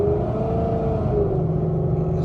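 A car engine droning steadily in fifth gear under light throttle, a loud, even low hum heard from inside the cabin with no other sounds over it.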